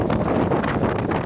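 Strong wind buffets the microphone on Lower Granton Road by Granton Square in Edinburgh, giving a loud, continuous rumbling roar with no voices heard.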